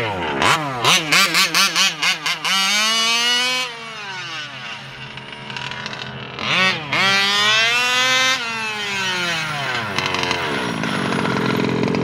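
A Losi 5ive-T 2.0 gas-powered RC race truck with a small two-stroke engine, loud and close, first revving in quick sharp bursts, then screaming through long sweeping accelerations and drops with a buzzy, chainsaw-like whine.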